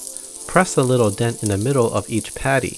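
Hambagu patties frying in a hot, lightly oiled skillet, giving a continuous sizzle that runs beneath a person talking throughout.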